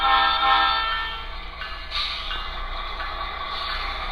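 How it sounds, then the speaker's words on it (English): A model locomotive with a Tsunami2 sound decoder sounds its horn whistle signals, a sustained chord-like blast that briefly breaks and resumes, heard alone and fairly loud with no talking. "first, of course, we have to do our whistle signals."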